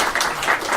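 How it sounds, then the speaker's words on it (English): An in-house audience at a crime debate applauds the speakers, a steady wash of many hands clapping, loud and continuous through the brief moment. "we'll have an in-house applause for the speakers"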